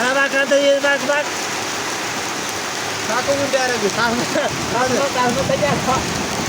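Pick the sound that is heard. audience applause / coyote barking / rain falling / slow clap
rain falling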